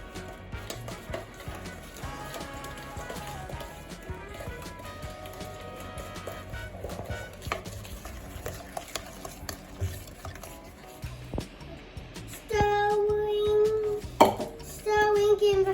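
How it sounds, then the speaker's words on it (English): A child mixing cookie dough for chocolate chip cookies, a spoon stirring and scraping steadily in a bowl with clinks against the sides, growing louder near the end. "Cracking the egg and mixing the egg in."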